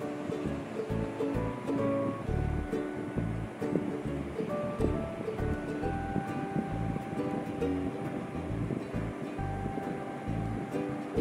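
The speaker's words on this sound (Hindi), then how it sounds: "जब आपको लगे कि तेल गर्म हो गया है फिर इसमें चना दाल को डाल के तलेंगे।" Chana dal fries in hot oil with a loud, continuous, close bubbling sizzle that holds steady throughout, with no one speaking.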